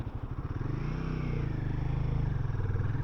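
Royal Enfield Guerrilla 450 motorcycle starting off on a hill: a close single-cylinder engine thumps in a rapid, even pulse that builds steadily and grows louder as it pulls away, with no talk.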